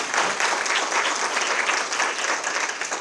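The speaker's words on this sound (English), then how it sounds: "please give our panelists another round of applause" A luncheon audience gives the panelists a round of applause on a law enforcement and mental health panel, dense and steady clapping heard close throughout.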